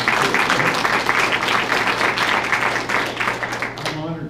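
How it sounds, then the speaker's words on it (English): Applause from an audience at a school community meeting, a dense, continuous clatter of many hands that thins slightly before a voice starts speaking at the end. "I think we should give Janet a nice round of applause for organizing."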